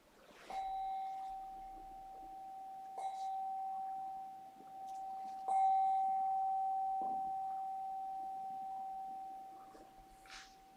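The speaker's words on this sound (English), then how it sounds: "Drawing the practice to a close when you hear the bell." Meditation bell closing a sitting practice, struck several times, each clear metallic ring sustaining and overlapping into a long steady hum in a quiet room.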